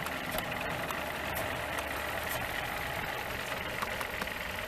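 A Mercedes W140 with a V12 engine and a broken fuel line idles steadily nearby, a continuous low rumble with faint ticking and no voices over it.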